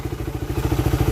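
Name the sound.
Honda Rider 150 motorcycle engine running after carb hose replacement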